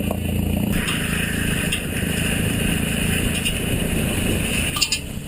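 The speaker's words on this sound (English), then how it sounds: "That noise you can hear, by the way, is our exhaust pipe dragging on the floor." A continuous loud scraping rumble of an exhaust pipe dragging along the ground beneath a moving vehicle in snowy weather, steady throughout with a faint clink near the end.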